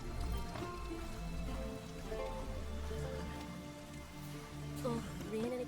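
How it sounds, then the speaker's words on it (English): Soft, steady patter of rain falling on surfaces in The Witcher 3: Wild Hunt, accompanied by faint tonal music and a brief rising sound near the end. "Oh, raining again."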